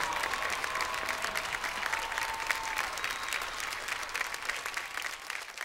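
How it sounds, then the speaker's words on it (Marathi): An awards-show audience claps steadily for Rajkummar Rao, a dense, even wash of applause from many hands at moderate distance, with no voices over it. "राजकुमार राव यांच्यासाठी जोरदार टाळ्या व्हायला पाहिजेत"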